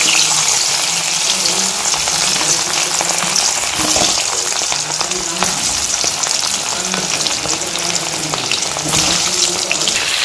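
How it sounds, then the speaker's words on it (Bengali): Potatoes frying in oil in a kadai with salt and turmeric, a loud, constant sizzle with occasional stirring scrapes, close and unbroken. "একটু নুন দিয়ে ভেজে নিচ্ছি আমি।"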